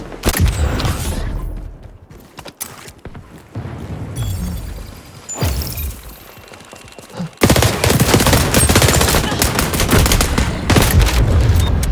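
Loud, dense bursts of automatic gunfire in the XDefiant shooter game, broken by quieter stretches with mechanical clicks and clacks of a magazine reload, then a sustained heavy barrage of shots to the end.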